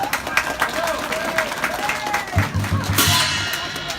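A crowd applauds at a Chinese New Year ceremony marking the Year of the Rooster, with scattered clapping and a murmur of voices that builds into fuller applause near the end.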